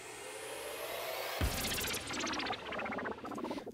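Riser sound effect in an electronic production made in Logic Pro, Zhu style: a noisy swell builds, then a bright pulsing sweep bursts in and climbs upward, loud and unaccompanied by speech.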